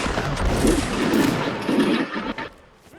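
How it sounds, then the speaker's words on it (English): A musket volley rings out in a Napoleonic Wars battle within Mount and Blade Warband, a dense cluster of overlapping gunshots crackling for about two seconds before fading away. "Make ready, present to their officer, and you may fire a volley."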